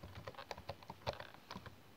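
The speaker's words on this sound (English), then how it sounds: "So I am typing here" Quick, uneven clicks of typing on a computer keyboard, close and quiet, with short bursts and brief pauses between keystrokes over two seconds.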